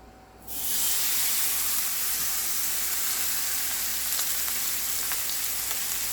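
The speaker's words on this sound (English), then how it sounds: "we're just going to sear this roast on each side for about 3 minutes" Pot roast searing in oil heated to the smoking point, a loud, steady sizzle and hiss that bursts in after a brief quieter moment and holds evenly throughout, with faint crackles and no talking.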